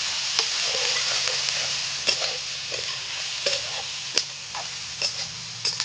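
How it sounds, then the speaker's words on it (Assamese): A spoon stirs turmeric and red chili powder into spices in a hot pan for chilli chicken, with steady frying sizzle and irregular light taps and scrapes against the pan. "মছলাখিনিৰ লগত মানে ধুনীয়াকৈ মিক্স হৈ যোৱাকৈ হালধি আৰু ৰেড চিলিটো ধুনীয়াকৈ লাৰি আছেগৈ"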